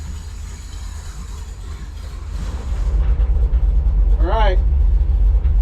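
A 1959 Chevrolet Apache custom truck idling with a deep, loud rumbling engine drone that swells and grows heavier partway through, close by, with someone speaking briefly over it.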